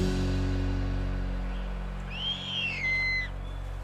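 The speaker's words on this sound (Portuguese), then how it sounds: "Já as corujas parecem até que vivem distraídas" An owl in the African wild gives a single wavering, whistle-like call lasting about a second, moderately clear above a continuous low rumbling background.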